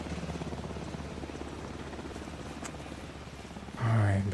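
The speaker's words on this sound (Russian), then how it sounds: "А им везет, они просто на вертолете пролетели." Helicopter flying past in the video game Alan Wake 2, a steady low rotor drone holding for several seconds, mid-distance, before a louder burst at the end.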